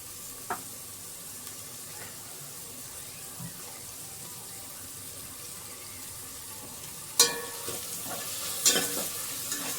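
Masala with curd and coriander powder for chicken biryani is stirred and fried in a pan, a soft continuous sizzle with occasional scrapes and then louder clatter and splashing near the end.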